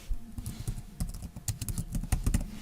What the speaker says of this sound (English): and we'll start typing